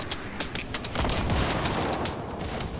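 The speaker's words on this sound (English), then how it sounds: "He shoots a rocket cross map at the tree." A rocket is fired across the map in Fortnite, heard as a rapid string of loud crackling blasts and sharp bangs over a dense, continuous noisy rumble.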